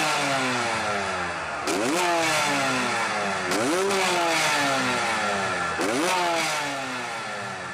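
Motorcycle engine in GTA San Andreas revving hard three times, each rev climbing then dropping back to a steady idle-like drone, loud and close with no talk.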